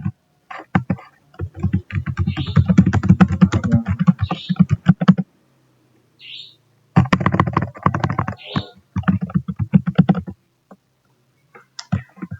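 Computer keyboard typing, a steady run of rapid clicking keystrokes in two main bursts with a few scattered taps, close and clear, with no talk.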